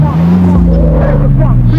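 Racing cars in the video game CarX Street roar as a race begins, a loud, steady engine drone with rising and shifting tones that fills the whole moment, while someone talks over it.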